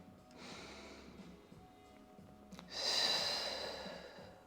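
A deep breath in and a long exhale during a Pilates mat exercise, a soft close inhale followed by a louder, airy breath out.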